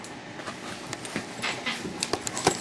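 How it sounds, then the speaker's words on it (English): Large dog panting softly and rapidly indoors, quick breathy puffs with a few faint whimpers and small shuffles, fairly quiet and close, no talk. "They're like big versions of my old dogs."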